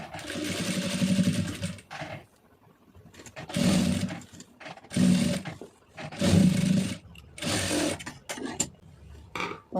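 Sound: sewing machine stitching piping design

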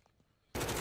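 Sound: gunfire in a video game

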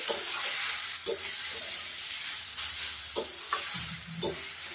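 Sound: frying and turning radish in a pan

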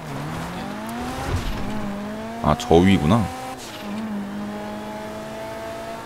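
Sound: car driving and tire squeal in GTA Online video game

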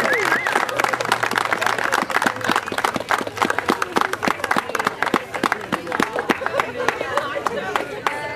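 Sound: audience applause for soccer program

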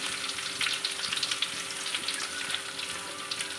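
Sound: garlic and urad dal frying in pan

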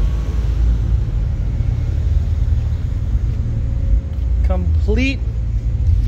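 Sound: Nissan S14 240 car idling at a car meet

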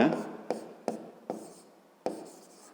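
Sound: writing down a math solution by hand

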